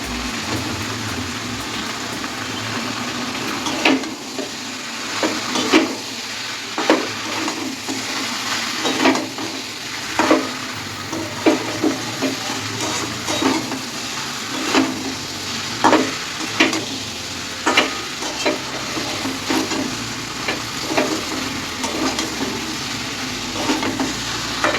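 Potatoes are stirred and fried in a pan for a jackfruit curry with egg. A constant hiss runs under regular scraping strokes of a spoon against the pan, close and fairly loud, with no talking.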